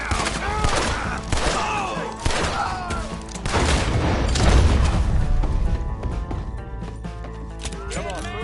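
Gunfire in the Red Dead video game, a burst of shots with booming thuds and hoofbeats of horses, loud amid background game sound, with people talking over it.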